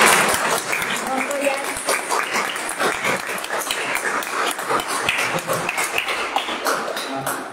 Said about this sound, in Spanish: Sí, te van a aplaudir y luego ahora.